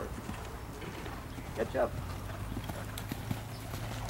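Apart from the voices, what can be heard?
horse hooves clip-clopping during riding lesson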